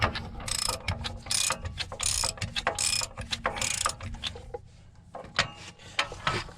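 A ratchet clicks in quick repeated bursts while snugging the bolts on a Dodge RAM 3500 wheel hub during a wheel bearing replacement. The sharp pawl clatter is close and loud, with short pauses between runs.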